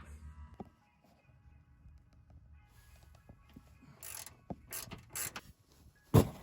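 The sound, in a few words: loosening a bolt on Honda Ridgeline rear strut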